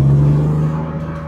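BMW M3 E30 convertible with an M52B28 engine running in a steady, deep droning rumble at close range, slightly easing off toward the end.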